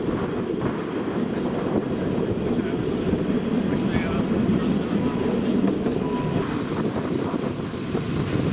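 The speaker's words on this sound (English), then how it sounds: "This is a diesel hydraulic locomotive that formerly worked in the Czech Republic. It has been re-engined with a Caterpillar engine." Diesel-hydraulic narrow-gauge locomotive, formerly Czech and re-engined with a Caterpillar diesel, running on the Zittau narrow-gauge railway, a steady low engine drone and rolling rumble throughout with wind noise.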